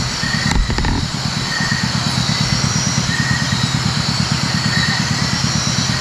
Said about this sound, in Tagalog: Ayan oh, yung motor niya hindi niya pinatay.